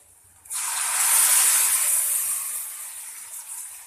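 Ground pepper paste for pepper kuzhambu hitting a hot pan: a sudden loud sizzling hiss that starts abruptly, stays strong, then slowly eases off, heard alone.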